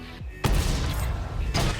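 A French SFAC 105 double-barrelled tank destroyer in World of Tanks fires twice: a loud booming cannon blast followed about a second later by a second shot, with a brief mechanical tone beforehand.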